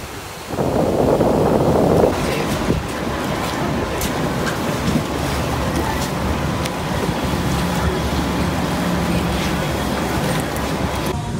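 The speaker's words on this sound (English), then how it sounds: "tell it's really windy up here" Strong wind at Clearwater Beach buffets the microphone in a loud, constant roar, gusting hardest in the first two seconds, with surf and boat noise blended underneath and no talking.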